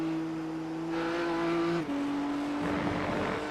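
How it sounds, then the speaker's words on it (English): A race car engine in the iRacing simulator holds a steady, loud drone with a clear tonal whine; the pitch shifts slightly partway through, suggesting a gear change, and no talk is heard over it. "I do want the car to be a little bit louder"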